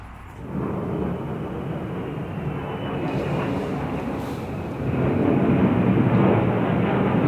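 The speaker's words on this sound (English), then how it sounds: "It is some type of military jet, though." A military jet roars overhead, a broad rumbling drone that swells louder toward the end, with no talking.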